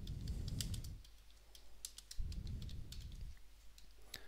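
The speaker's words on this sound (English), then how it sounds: "The instructor will start with typing the name" Keyboard typing: scattered light key clicks and taps, close and moderately loud, over two bursts of low rumbling background noise.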